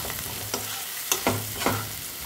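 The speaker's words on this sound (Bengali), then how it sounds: "নুন দেওয়ার পর টমেটোটা আরও খানিকক্ষণ ভেজে নেব, যাতে করে টমেটোটা একেবারে গলে আসে" Tomatoes and onions frying with salt in a pan for a Bengali mustard fish curry, a steady sizzle broken by several sharp scraping stirs of a spatula, close and moderately loud, with no talking.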